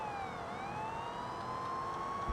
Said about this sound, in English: the destruction and chaos along with the sound of sirens